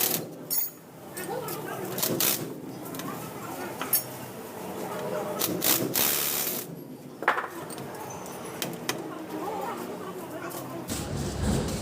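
Metal tool clinks and ratcheting clicks from a wrench loosening housing bolts during a housing oil seal replacement, irregular and close, with people talking throughout.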